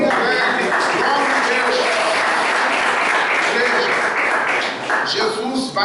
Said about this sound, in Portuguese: Dá uma salva de palmas para Jesus, bem alegre